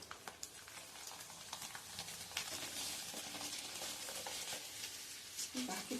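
Rice papad fries in hot oil in a kadhai with a faint, continuous crackling sizzle and light pattering bubbles, heard quietly and alone.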